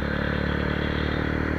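A motorcycle rides along a road in the evening near Kali Vahan temple in Etawah, its engine giving a steady, loud, continuous drone with rattly road noise throughout and no voices.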